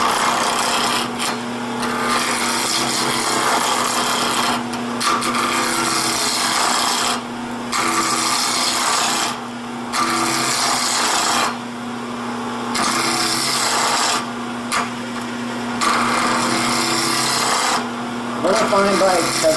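A wood lathe spins a bottle stopper at a couple thousand RPM while a tool scrapes the wood in repeated bursts, each broken by a brief pause, with someone talking over the work.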